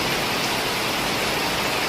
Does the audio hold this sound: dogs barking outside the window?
no